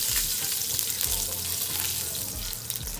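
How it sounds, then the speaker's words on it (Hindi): Cumin seeds frying in a tablespoon of oil for a stuffed karela keema dish, giving a steady close sizzle and crackle with occasional stirring scrapes throughout. "इसको हल्का सा फ्राई कर लें।"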